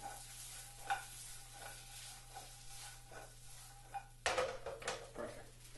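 Meat stir-frying in a pan over high heat, a steady sizzle broken by repeated scrapes and clacks of a utensil against the pan, growing busier and louder toward the end.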